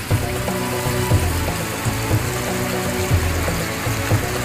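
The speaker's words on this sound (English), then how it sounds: "the beautiful, tranquil sound of a waterfall really is beautiful" Rock waterfall on a koi pond, driven by a running pump, gives a steady, close splashing rush of falling water with a low churning undertone, continuous and even throughout.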